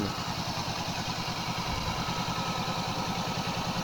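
A 2017 Honda CBR500R sport motorcycle engine idles steadily nearby with an even, rapid low-pitched thrum and a light mechanical clatter.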